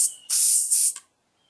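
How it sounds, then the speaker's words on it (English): Cleaner sprayed from a can into a fuel injector from a 1994-1997 Honda Accord EX: two close, sharp hissing bursts with a short break between them, then silence. "You're going to want to take your cleaner and then spray it inside an injector here where the fuel squirts out."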